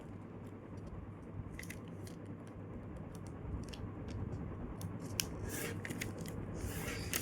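Paper being folded and squash-folded into a paper airplane, with quiet crisp creases and crinkles, close and faint, in short bursts over a low steady background hiss.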